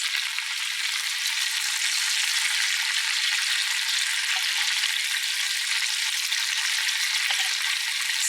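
Fish frying in a pan with butter for a Persian herb rice dish gives a steady, even sizzle that runs unbroken and fairly close throughout, with no voices.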